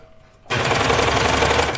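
A sewing machine set on flannel starts suddenly and runs loud and steady, its rapid needle rattle stitching an underarm seam on a sweater, close up with no voices.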